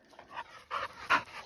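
A dog on a pack walk pants in quick, breathy bursts close by, three or four rough puffs in a short stretch with little else around.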